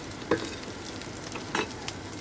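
Chopped onions and a few green chillies fry in mustard oil, giving a steady soft sizzle with a few brief louder stirring scrapes, with no one talking.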